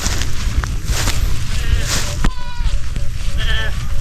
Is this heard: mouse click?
no